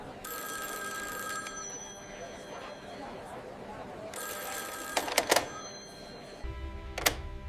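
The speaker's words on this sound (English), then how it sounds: "Then came a phone call." An old telephone bell rings in bursts, a long shrill ring followed by a pause and another ring, with sharp clicks and a low rumble near the end, and no one speaking.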